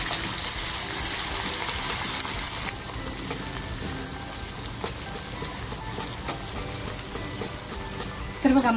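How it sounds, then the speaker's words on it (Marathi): Masala spice paste frying in oil for Kolhapuri mutton rassa, with a dense, continuous close sizzle, faint scrapes of stirring and a brief louder burst near the end. "हा मसाला असा छान त्या तेलामध्ये आपल्याला परतवून घ्यायचा आहे"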